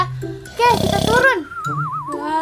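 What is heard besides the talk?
grandma character snoring loudly, video game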